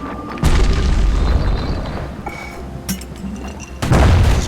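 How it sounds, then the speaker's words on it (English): Hand grenade explosions in the video game Bastion, a deep heavy boom with rumbling tail, another blast near the end, loud and close amid game sounds. "hand grenade."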